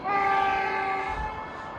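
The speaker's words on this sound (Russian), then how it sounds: "Ух, какой паровоз." A steam-style locomotive passes outdoors in snowy Arctic country, sounding a sustained, loud, tonal horn throughout the brief moment with a low rumble underneath.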